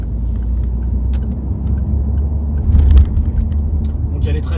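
A 2018 Peugeot 308 GTi with the 270 hp 1.6 THP engine accelerates, heard from inside as a steady loud low engine drone that swells briefly toward the end.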